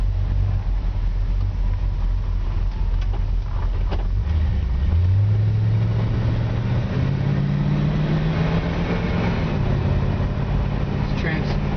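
A 1963 Ford Galaxie 500 out on a drive, its engine a steady loud rumble that climbs smoothly in pitch as the car accelerates through the gears.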